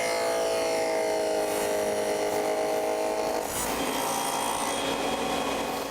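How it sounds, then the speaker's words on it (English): Table saw fitted with a dado stack running in a woodshop, a steady high whine that holds evenly for several seconds then shifts pitch partway through, close and loud with no talking. "We brought our piece down to the table saw, and we're using what's known as a dado stack"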